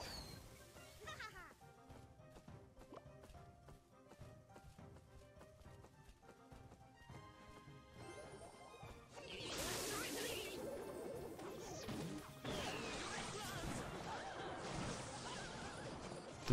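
Horses gallop and neigh in a Clash Royale match: clip-clopping hooves and whinnies, first faint under light music, then a louder, busy rush of hoofbeats and whooshing battle noise.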